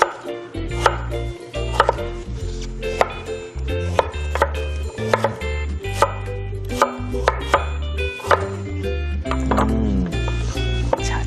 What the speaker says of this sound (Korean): 반달 썰기로 오늘 이제 썰어줄 거거든요